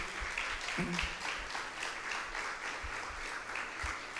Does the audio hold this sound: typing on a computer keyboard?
no